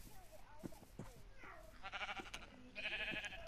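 Sheep bleating in the Minecraft video game on PlayStation 4, several short bleats heard over game sound effects and a player talking.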